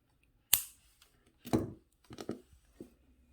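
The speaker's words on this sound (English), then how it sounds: "I'm going to cut that wire." Jewelry wire is snipped with cutters while finishing a wire-wrapped pendant: one sharp close click, then a few softer crunching snips and handling sounds.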